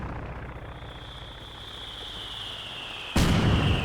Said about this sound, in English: These recon planes are annoying.